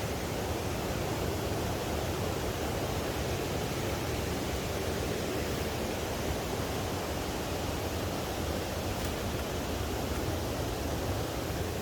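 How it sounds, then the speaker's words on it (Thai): Water rushing down a forest stream channel toward Kaeng Kok rapids in Thailand, heard as a steady, dense broadband wash that stays constant and fairly loud for the whole stretch, with no voices. "อันนี้เป็นทางน้ำที่มันไหลมาเอฟซีเนี่ย ไหลมาไหลมา แล้วก็มาเข้าตรงแก่งกอกนะครับ"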